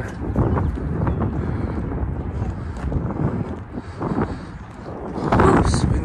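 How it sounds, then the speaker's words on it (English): Wind buffets the microphone outdoors in a continuous rough rumble that swells and eases, with a stronger gust near the end; a drone outing in breezy weather, no clear speech. "Oh, it's windy."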